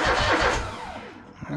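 The engine of a 2007 Country Clipper riding mower starts on a weak battery, a short cranking churn that catches into a brief rising roar and then fades, close by.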